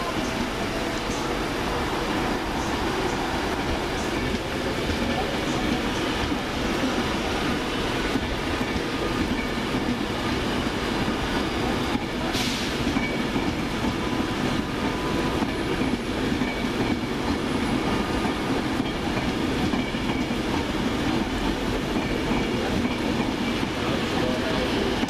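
A Virgin train, unit 390131, departing Crewe station on a delayed Birmingham New Street to Edinburgh Waverley service, a loud continuous rumble of rolling stock with faint clatter throughout.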